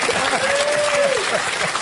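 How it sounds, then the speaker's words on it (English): Steady applause from an audience fills the room, with a voice rising briefly over the clapping. "Now, that's more like what I call applause."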